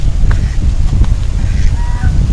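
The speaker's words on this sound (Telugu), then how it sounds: "సో ఇక్కడ చూస్తే డక్స్ అన్నీ ఉన్నాయి చూడండి" Honking ducks call repeatedly over a breezy outdoor background at Horsley Hills, Andhra Pradesh, several short nasal honks scattered across a couple of seconds.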